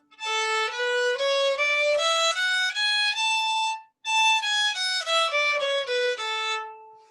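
A bright, synth-like tone plays a major scale stepping up and back down, clean sustained notes at an even pace, briefly pausing midway before repeating.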